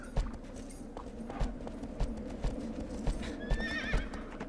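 A horse in the video game Shadow of the Colossus trots with an even clip-clop of hooves, then lets out a short, bright whinny near the end, with no voices over it.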